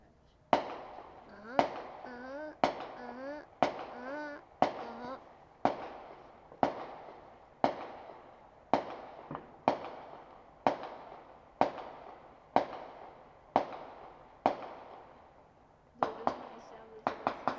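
A long series of sharp pump shotgun blasts outdoors, roughly one per second, some with echo, with faint voices underneath in the gaps.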